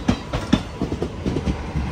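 Kacheguda–Nagarsol Express rolling past near Medchal outside Hyderabad, a loud, close rhythmic clatter of wheels over rail joints with steady rumble, no voices.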